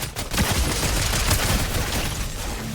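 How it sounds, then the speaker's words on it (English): A dense burst of rapid gunfire, as if shot down from above, rattles loud and close with overlapping cracks and no pause. "So Bullets coming from up high."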